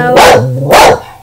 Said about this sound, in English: And Max is barking again